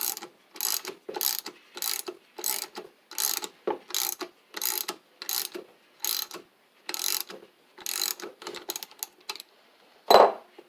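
A ratchet turns a left-hand-thread fastener on a Briggs & Stratton engine during a teardown, with about fifteen short, close clicking bursts separated by brief pauses, then one sharper knock at the end.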